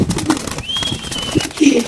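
Pigeons coo softly in a cage, a couple of low murmuring calls near the mic alongside a thin high whistle and faint background chatter.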